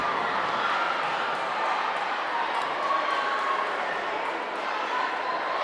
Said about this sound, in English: These kids now cheering Big Dan on